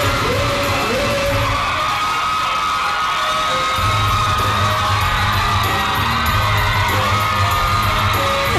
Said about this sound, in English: the screaming, you needed earplugs